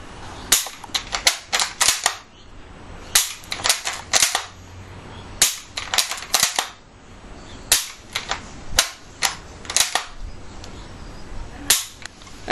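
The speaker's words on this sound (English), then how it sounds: "When I pull the trigger, it snaps forward, bringing the firing pin forwards." A rifle bolt being worked and the trigger dry-fired again and again, with more than twenty sharp metallic snaps and clacks as the firing pin drives forward. They come close and loud, in quick irregular bursts with short gaps between.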